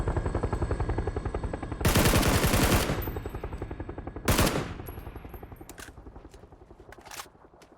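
Gunfire in PUBG on console, a weapon set to single fire: dense rapid rattling shots run throughout, with two louder bursts standing out and a final sharper shot near the end, no voices over it.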